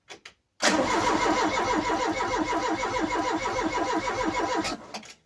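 An old Ford Cortina engine cranks with a rapid, rhythmic churning for about four seconds before stopping abruptly, loud and close.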